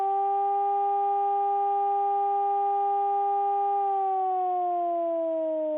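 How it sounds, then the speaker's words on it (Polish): A loud, steady air raid siren wail holds one pitch, then slides lower near the end, sounding alone without any voices. "nagle rozlega się przeraźliwy dźwięk syreny alarmowej"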